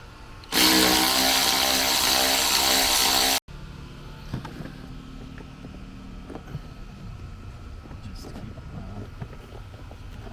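A power tool whirs loudly for about three seconds while removing bolts from the dashboard of a 2010–2014 Ford F-150 Raptor, then stops abruptly, followed by quieter clicks and small clunks of handling parts.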